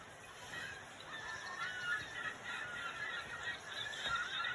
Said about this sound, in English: The second thing I heard was birds.